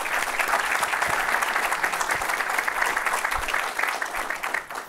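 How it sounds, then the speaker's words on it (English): Audience applause for Jesse Redd at a Black law enforcement chiefs panel, a steady roomful of clapping sustained for several seconds before tapering off at the end. "Let's give Jesse a round of applause."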